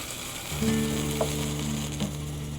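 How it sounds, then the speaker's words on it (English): Liquefied natural gas poured onto warmer water boils off vigorously, a steady hissing, bubbling wash with a low hum underneath, close and fairly loud. "you see the LNG is boiling off because the temperature of the water was a lot warmer"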